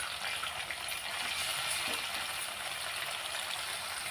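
Garlic and onion paste hitting hot oil, giving a continuous bright hissing sizzle, fairly faint but steady and close, with no voices.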